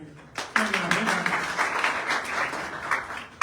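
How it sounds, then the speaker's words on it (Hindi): Church congregation clapping together at a Sunday service, a steady burst of applause that swells and holds over about three seconds, with a voice briefly heard at the start. "एक बार उनके लिए ताली बजाते हैं।"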